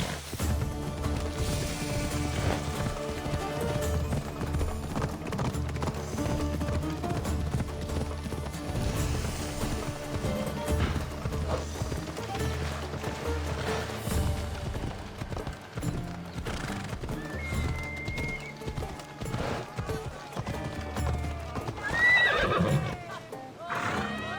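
A horse gallops with steady clip-clop hoofbeats and neighs in Assassin's Creed Odyssey, layered over continuous game music and ambience for the whole stretch, with a louder whinny near the end.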